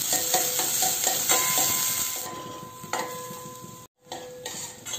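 Onions frying in a pan for banana stem chutney, with a steady sizzle, stirring scrapes and clinks of a utensil against the pan, plus a brief tonal beep partway through and one short dropout.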